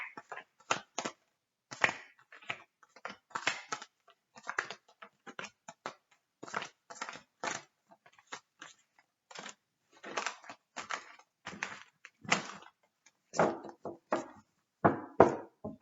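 Tarot cards shuffled quickly by hand, a dense run of crisp papery slaps and riffles in irregular bursts, close and alone with no talking.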